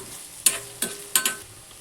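Chopped onion sautés in a pan for kanda poha while a spatula stirs it, giving a soft sizzle broken by three or four sharp scraping strokes close by.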